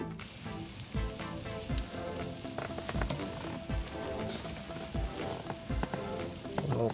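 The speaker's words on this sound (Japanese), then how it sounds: "今から焼いていきます。" A large block of meat heavily coated in pepper and salt sears in a hot pan, giving a steady close sizzle with scattered crackling pops throughout, no voices.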